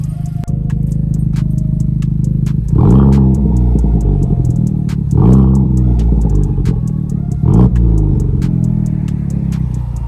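A Honda Civic Type R fitted with a GReddy DD-R exhaust, its deep exhaust note droning loudly and steadily up close, swelling in three distinct rev blips spaced a few seconds apart, with no talk.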